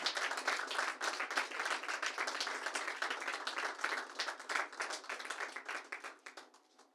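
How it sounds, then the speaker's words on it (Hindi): Audience applause for a panelist at a talk on LGBTQ topics: dense steady clapping from a hall crowd, fairly loud and sustained, tapering off toward the end with no voices over it. "एक बार जोरदार तालियां हो जाए"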